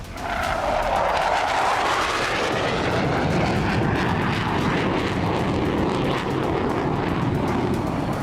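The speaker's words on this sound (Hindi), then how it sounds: "जिस F-35 lightning II fighter jet ने वेनेजुएला में हुंकार भरी, वो अमेरिका का सबसे घातक फाइटर जेट है।" A US F-35 Lightning II stealth fighter jet flies past with a loud, continuous roar that rises and sweeps in pitch as it passes, filling the whole stretch with no voices.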